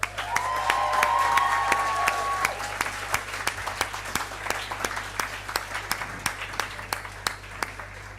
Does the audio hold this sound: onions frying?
no